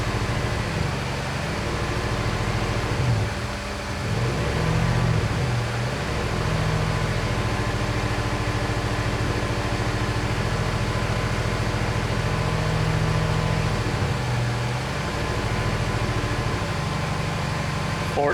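A swapped GM LS V8 fitted with a Davies Craig electric water pump idles steadily at around 1200 RPM, a continuous close engine drone with a faint, slightly wavering pitch throughout.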